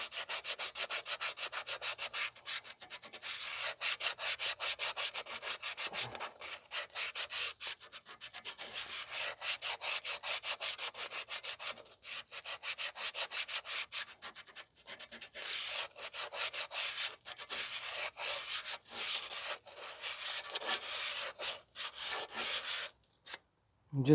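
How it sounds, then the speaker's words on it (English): Aluminum oxide sandpaper rubs back and forth across rear brake shoes from a 2015 Toyota Sienna 3.5 V6, fast rasping strokes in long bursts separated by brief pauses, close and loud with no talking. "I'm going to sand down the shoes now"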